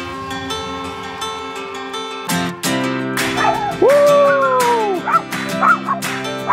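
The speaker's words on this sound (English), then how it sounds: "Guard dog." A dog barks and yips several times in quick bursts with a whiny, whimpering edge, close by, over steady background music.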